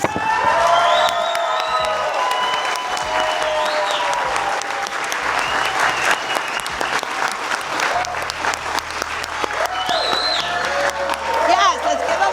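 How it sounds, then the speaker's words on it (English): Loud, sustained applause with cheering and whoops from a ceremony crowd honoring women of the year, dense clapping filling the whole stretch with scattered shouts rising above it. "Yes, let's give them a big round of applause."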